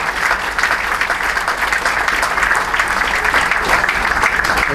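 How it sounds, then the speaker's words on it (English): Applause for the DEA staff from a crowd at a union gathering: dense, steady clapping sustained loudly and evenly throughout, with no voices standing out. "I want to give them a round of applause"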